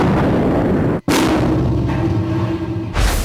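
A large explosive blast strikes a concrete block test wall, one that is sprayed with Paxcon protective coating; a loud, sustained roar of debris and rumble follows a sharp break, with a second burst near the end.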